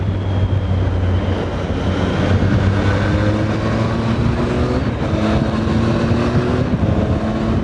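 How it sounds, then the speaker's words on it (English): A 2015 Triumph Tiger 800 XRx motorcycle under way: a loud, steady engine drone with rising whine tones, blending induction roar and exhaust note, continuous and close throughout with no talk. "That induction roar, the whistle, the exhaust note, all comes together in this trifecta of awesomeness"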